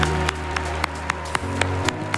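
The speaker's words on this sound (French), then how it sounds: "Vous pouvez l'applaudir" An audience at a live French debate show claps in a steady rhythm, loud sharp beats about a quarter second apart over a low hum.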